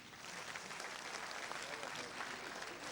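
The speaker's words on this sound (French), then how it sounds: "applaudissements pour ces candidats-là" Faint, steady applause from a studio audience for the Faso Academy 2017 candidates, uniform hissy clapping lasting throughout with no distinct voices.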